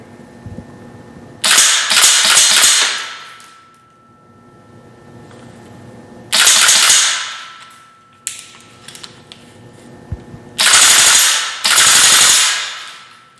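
A GDR15 airsoft rifle with a steel carrier fires in three loud close bursts of rapid mechanical clacking, each lasting about a second or two, with quiet pauses and a stray click between them.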